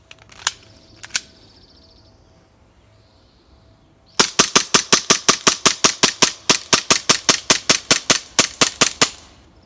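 Elite Force Glock 17 Gen 4 gas blowback airsoft pistol firing a full 24-round magazine: two early isolated shots, a pause, then a long steady string of sharp, loud, evenly spaced pops, with no talking.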